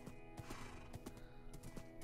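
Rhythmic clip-clop of horse hooves in Minecraft in a steady trotting pace, with a faint synthetic musical backdrop.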